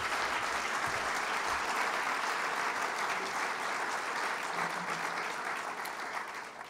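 A large audience gives a sustained, even round of applause to the 2014 MVC Hall of Fame induction class, dense clapping holding steady before easing slightly at the end.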